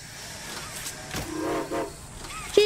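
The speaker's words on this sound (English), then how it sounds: "I'll pull the whistle." A train whistle is pulled in the video game Poppy Playtime Chapter 2, giving a soft, hollow tone that swells for about a second over a faint mechanical background, with a short sharp click at the end.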